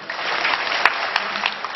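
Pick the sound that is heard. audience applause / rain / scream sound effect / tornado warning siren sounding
audience applause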